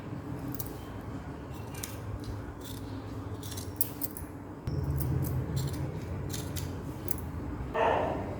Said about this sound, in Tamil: இப்போது இந்த கத்திரிக்கோலால் ஒரு ரிப்பன் அளவுக்கு நீட்டாக கட் பண்ணிக்கலாம்.